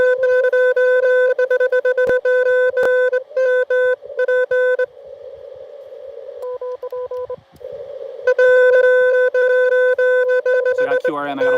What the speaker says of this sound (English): So I got QRM, I got a lot of people calling.